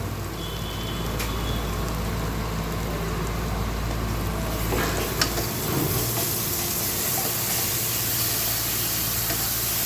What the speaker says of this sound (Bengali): পেঁয়াজগুলো ভাজা হয়ে গিয়েছে এখানে জাস্ট এখন আমি এক চা চামচ পরিমাণ রসুন বাটা দিব